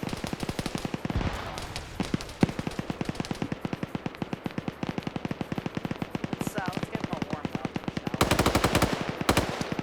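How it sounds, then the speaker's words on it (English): Rapid bursts of machine gun fire in a multiplayer combat video game, sharp repeated cracks in long rhythmic strings with a louder flurry near the end. "Nelson taking MG fire by Kikir."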